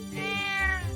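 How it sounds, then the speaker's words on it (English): Kitty, a cat in Trails of Cold Steel 2, gives a single drawn-out meow lasting about a second, close and clear, with no talking over it. "It's Kitty! It's adorable Kitty!"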